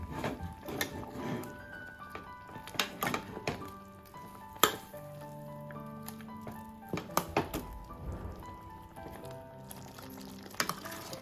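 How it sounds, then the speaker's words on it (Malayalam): Chicken pieces frying in a pan and being turned over, with a steady background sizzle broken by repeated soft thunks and clinks of the utensil against the pan. "ഒരു ഭാഗം ഫ്രൈ ചെയ്ത് കഴിഞ്ഞിട്ട് തിരിച്ചിട്ട് കൊടുക്കാം."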